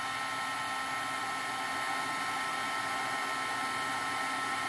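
A heat tool blows hot air in a steady, continuous whir, close and even throughout, used on distressed oxide ink backgrounds with no talking.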